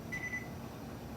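A single short electronic beep from an oven timer sounds in a home kitchen during the baking of Irish soda bread. It is brief and moderately clear over a low room hum.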